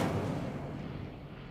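An Incendio fire spell cast in a video game bursts out as a loud, rumbling whoosh of flame that slowly fades over about a second and a half, with no voices.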